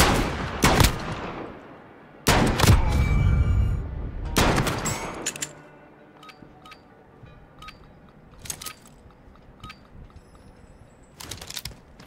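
Gunfire in a Call of Duty Modern Warfare multiplayer match: several loud, sharp shots in quick bursts up front, then quieter scattered clicks and distant pops with game background noise.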